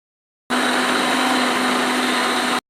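Electric blender whirring steadily as it grinds tomatoes, ginger, garlic and green chillies into a paste for a masoor lentil dish, a loud continuous motor drone lasting about two seconds before cutting off.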